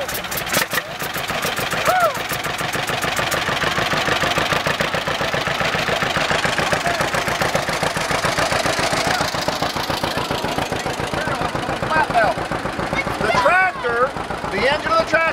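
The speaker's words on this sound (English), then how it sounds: "The engine of the tractor will make this belt turn" A tractor engine chugs steadily with a rapid, regular knocking beat, running continuously at close range with faint voices in the background.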